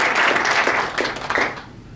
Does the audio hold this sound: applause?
yes